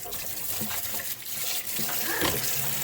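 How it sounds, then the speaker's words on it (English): Steady rushing hot water sprays and splashes continuously at close range onto gas stove parts, with shifting hiss and gurgle and no talking. "I'll just take some hot water and spray them"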